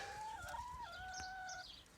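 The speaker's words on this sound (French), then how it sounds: "Mais vous arrêtez de faire du bruit là, les poules" Hens on a small home farm give faint, drawn-out clucking calls, several overlapping tones heard from a short distance in quiet surroundings.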